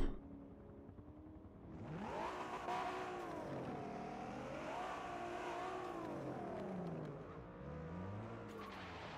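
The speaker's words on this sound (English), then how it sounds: "I heard a car coming." A race car in a racing video game at Suzuka approaches and revs, its engine note rising and falling through gear changes, fairly loud and continuous.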